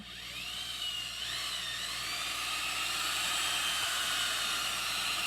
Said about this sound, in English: I went to the small wool wheel and I'm just buffing the entire inside of the drum with it